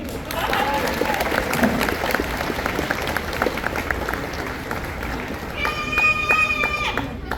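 Audience applause at a bird show at Animal Kingdom, Walt Disney World, a steady, moderately loud clapping crowd, with a bright whistling or bird-like tonal sound entering near the end.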